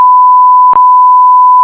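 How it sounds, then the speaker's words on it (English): A single short censor beep cuts in sharply over a steady tone, loud and alone, lasting well under a second within a podcast conversation about tracking coyotes and Bigfoot. "every time you give a location, I gotta do the stupid censor beep"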